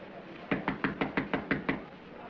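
Eight evenly spaced knocks on a door in a 1937 film scene, firm and fairly close, in a steady rhythm against a low background hiss, then stopping.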